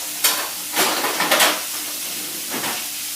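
Meat frying over the heat in a pan, cooked to medium: a steady loud sizzle with hiss throughout, swelling in a few bursts as it is moved or stirred, with no talking.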